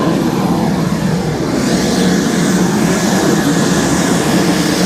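Inside a private jet, a steady, loud broadband engine roar and cabin rush holds constant without a break, with no voices over it.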